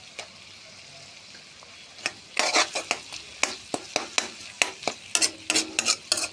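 Garlic paste frying in a pan while jackfruit is cooked, a steady sizzle that turns into a run of close, sharp scraping and stirring strokes in an irregular rhythm, with no voices.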